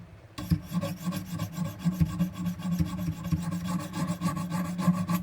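Knife blade drawn over the stones of a Wicked Edge sharpener, quick regular rasping strokes close up, an even scraping rhythm that carries on without pause.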